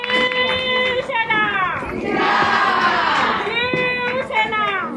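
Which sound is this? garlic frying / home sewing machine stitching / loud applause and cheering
loud applause and cheering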